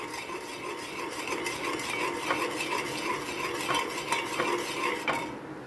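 A spoon stirs milk in a pot on the stove, scraping steadily against the metal in a continuous, fairly loud rhythm, with no talking.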